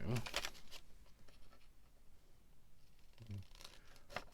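Scissors cutting out a paper label for a storage box, a few short snipping and rustling bursts at the start and near the end, quiet and close, with a faint voice in the background.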